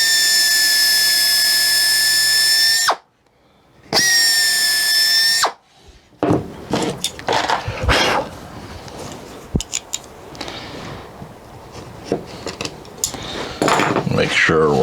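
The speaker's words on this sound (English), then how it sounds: "we'll just go ahead and drill all of these holes" A power drill whines in two steady bursts while boring holes in Zenith 701 access panels, followed by clattering and handling noises of metal parts.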